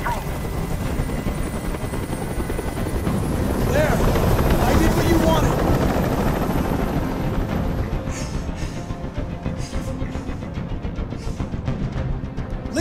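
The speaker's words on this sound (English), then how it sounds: "Tell that helicopter to get out of here." Helicopter hovering overhead in the video game Detroit Become Human, a loud continuous rotor roar that swells toward the middle and then holds steady, with speech over it.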